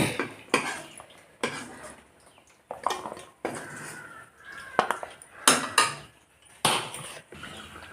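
Fried jaggery gavvalu made with wheat flour being tipped into a metal bowl, a series of sharp metallic clatters and scrapes in separate bursts with quiet gaps, close and fairly loud.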